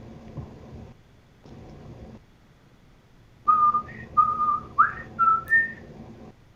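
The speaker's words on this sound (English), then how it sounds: "Not me. I'm just whistling." Someone whistles a few short melodic notes, clear and close, after quieter murmuring sounds earlier.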